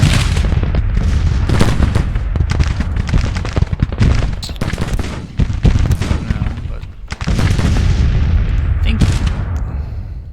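Heavy artillery fire in a Civil War battle video game set at Shiloh: dense, continuous booming and cracking blasts, loud and close, rolling without pause through the whole stretch with brief dips between volleys.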